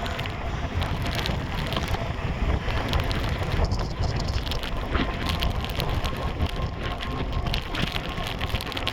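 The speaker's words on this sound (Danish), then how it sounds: "det blæser rimelig meget, og det støvregner rimelig meget" Strong wind buffets the microphone outdoors while light drizzle falls, making a loud, steady rush and rumble that holds through the whole stretch with no clear talk.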